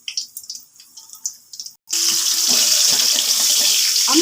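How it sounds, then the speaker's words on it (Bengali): Soaked raisins being rinsed under a running kitchen tap, preceded by a few soft clinks and handling sounds, then a sudden loud steady gush of water splashing into the sink. "আমি কিশমিশগুলো জলে ভিজিয়ে রেখেছিলাম, সেগুলো ধুয়ে এখন সেগুলোকে দিয়ে দিলাম।"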